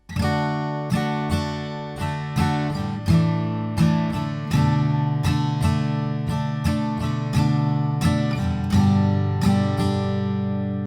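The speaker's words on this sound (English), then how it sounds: "And in total, the easy way to play the intro sounds like this." Easy acoustic guitar intro to a song, with continuous strummed chords in a relaxed steady rhythm, played up close with no voices.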